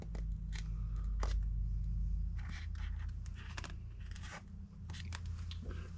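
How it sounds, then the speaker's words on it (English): A utility knife slices a small slit through the foam-backed boom mat sound deadener inside a Jeep TJ. Several short, sharp cutting and scraping bursts sit over a steady low hum, close by, with no talking. "Just took my knife, made a small slit."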